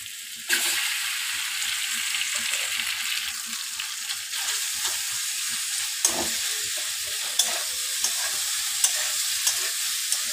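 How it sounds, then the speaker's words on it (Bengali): Pasta being stir-fried in a wok with already-fried vegetables in white oil gives a steady, loud sizzle, with scraping stirs and occasional sharp clinks of the utensil, no talking. "সবজি হয়তো ভাজা হয়ে গেছে, এবার আমি পাস্তাটা দিয়ে দিচ্ছি।"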